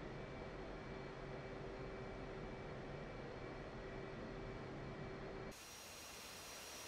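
An F/A-18C Hornet jet in DCS World taxis with a steady, faint engine whine and broad roar holding constant, dropping abruptly to a quieter hiss near the end.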